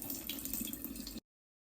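Water runs as soaked rice is drained, a steady close rush of pouring liquid that stops abruptly after about a second, with no talk.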